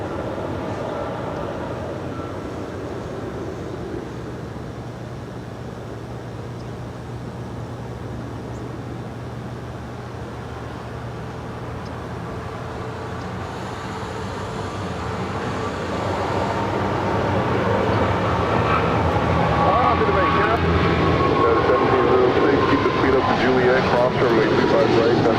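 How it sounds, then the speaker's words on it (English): United Boeing 777 in Evo Blue livery taking off on runway 25 right at LAX, bound for Newark, its jet engine rumble growing louder through the second half, with talk over it. "we've got the United 777 heading to Newark, now rolling down 25 right"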